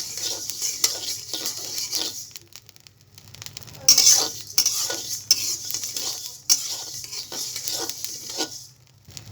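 Raw rice is fried in a pan with continuous stirring, a steady dry hiss and sizzle punctuated by scraping and knocking spatula strokes against the pan, close and fairly loud.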